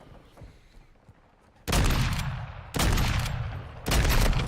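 Gunfire in the video game Modern Warfare 2: after a quiet start, three loud sustained bursts of automatic fire, each about a second long, with short pauses between them.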